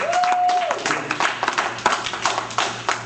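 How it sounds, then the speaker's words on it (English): A church congregation claps their hands in praise, a steady flurry of close claps under a lively crowd. "Somebody give God a hand clap of praise one more time"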